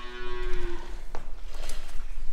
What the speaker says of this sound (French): donc c'est une vache, allez.